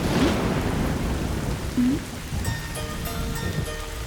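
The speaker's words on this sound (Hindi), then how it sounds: "अरे नहा रहे हैं तो बारिश हो रही है, कोई बात नहीं।" Heavy rain pours steadily with a low rumble of thunder during a scene in a South Indian action film; faint tonal music enters near the end.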